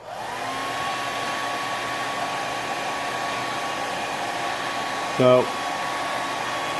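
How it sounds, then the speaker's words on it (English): A hair dryer blows with a steady, even whir from start to finish, warming a shirt on a quarter-scale Superman figure, and a voice briefly says a word near the end. "I have to use a hairdryer, but I'm gonna heat up basically the shirt"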